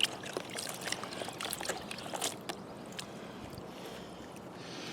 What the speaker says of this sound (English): Just keep washing them off, and all that brown papery leaf stuff should come right off.